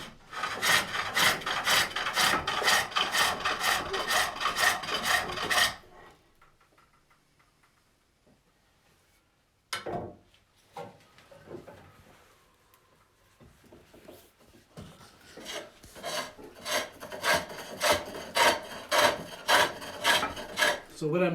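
Tool cuts into wood on a pole lathe while turning a Swedish-style locking lidded box, a close rhythmic rasping in repeated strokes that stops for a quiet stretch with a few soft knocks, then builds back into steady cutting.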